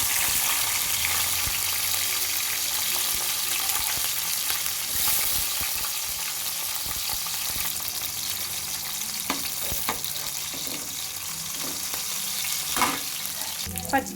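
Green chillies sizzle and crackle steadily in hot oil for a tomato chutney, a continuous close frying hiss with occasional stirring clinks and sputters, no voices.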